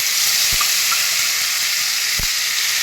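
A spice tempering frying in hot oil in a pan for a vegetarian masala paneer, a loud, even, close sizzle with a couple of soft low thumps and no speech.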